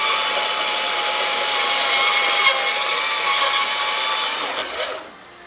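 Steel tube hand-notched for an E36 harness bar, a continuous bright rasping of file or saw on metal, loud and close, running steadily before cutting off abruptly near the end.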